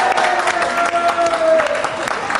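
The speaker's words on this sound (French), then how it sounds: "On applaudit très fort Richard Dean Anderson avec nous." Studio audience at the Toulouse Game Show 2016 applauding actor Richard Dean Anderson, a steady wash of clapping and cheering throughout, with a voice talking over it.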